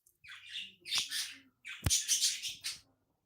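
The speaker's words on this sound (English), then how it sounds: "We've got a lot of birds." Pet birds squawk in harsh, loud bursts, a couple of rasping calls close by, separated by short pauses, with no one talking.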